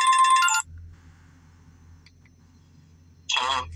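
A phone ringtone chimes loudly for about half a second, falls silent with a low hum underneath, then rings again near the end, an incoming call coming back through after a hang-up.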